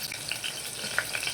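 Garlic fries in oil with cumin seeds, a short burst of steady, crackling sizzle at moderate loudness with a few brighter pops and no speech.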